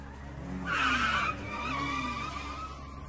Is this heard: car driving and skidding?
yes